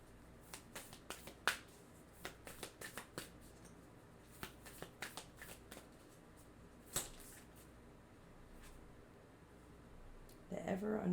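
A deck of tarot cards is shuffled by hand in a run of close, crisp riffling snaps and taps spread through the first half, thinning later, with a louder rustle at the end and quiet speech underneath.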